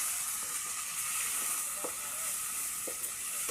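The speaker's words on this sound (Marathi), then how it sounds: "चांगले आलं लसूण पेस्ट परतून घेऊयात" Ginger garlic paste sautéing in hot oil for a chicken curry, a steady soft sizzle with a few faint scraping stirs, fairly quiet and continuous with no talking.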